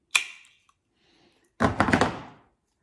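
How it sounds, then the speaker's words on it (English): A plant stem is cut at the join where it meets a side shoot, with one crisp snip followed by a longer burst of rustling, crunching plant material close by. "I'm now going to cut into the join where the stem joins"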